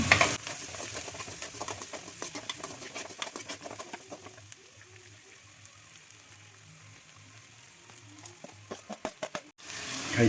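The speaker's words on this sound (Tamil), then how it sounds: "சின்ன வெங்காயம் வெள்ளை வெங்காயம் இஞ்சி எல்லாம் போட்டு நல்லா ஃப்ரை பண்ணிக்கலாம்" Small shallots, white onions and ginger frying in oil for a chicken dish, giving a steady close sizzle with bursts of stirring clatter near the start and end.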